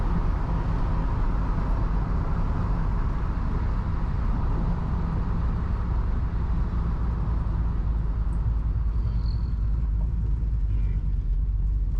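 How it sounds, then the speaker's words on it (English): A 5.3 V8-swapped hot rod rumbles steadily as it turns around in a driveway, a loud, constant low engine drone with road noise that never lets up. "They get a hot rod turning around in their driveway."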